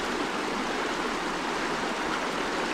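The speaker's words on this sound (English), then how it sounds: "She's sitting in the creek." Steady, broadband rush of flowing creek water in the Great Smoky Mountains near Metcalf Bottoms, Tennessee, close and continuous, with no voices or other sounds over it.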